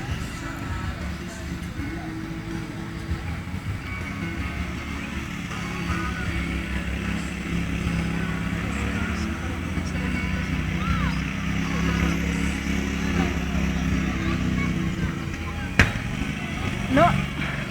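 Lawn tractor engines drone and rev continuously at a village-day rally in Aakre, with a steady low rumble and background crowd noise throughout.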